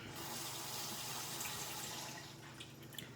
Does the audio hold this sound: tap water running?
yes